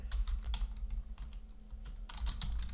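Fingers tap on a computer keyboard in quick bursts of faint clicking, pausing briefly midway before resuming, with no voices.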